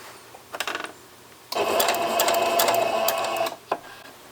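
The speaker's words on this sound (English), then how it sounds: "I'm just chain piecing right at this moment" A sewing machine with a quarter-inch presser foot chain pieces quilt seams, running in one steady, close whirring stretch of about two seconds, with a few light clicks of handling before and after.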